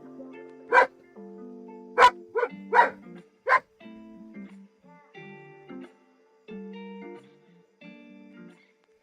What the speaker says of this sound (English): Bro, I can't focus with you like barking your head off.